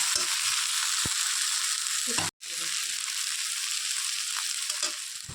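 Bottle gourd and shrimp curry (lau chingri) sizzles steadily in a pan, a loud close hiss that breaks off briefly and then resumes, with faint stirring clinks.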